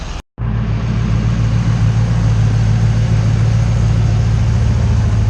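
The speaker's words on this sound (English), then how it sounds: "We got the twin turbo G8 GTO he's got running here for me. This thing sounds bad." A twin-turbo Pontiac G8 GTO engine running in a shop, a loud, steady, deep rumbling idle that holds without revving after a brief cut at the start, with no talk over it.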